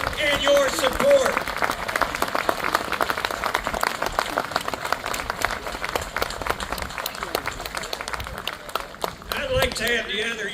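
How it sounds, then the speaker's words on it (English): Crowd at a William Davis Day union miners' gathering in New Waterford, Cape Breton, claps continuously for about ten seconds, a busy patter of many hands with voices mixed in. "Give Brian a round of applause and your support."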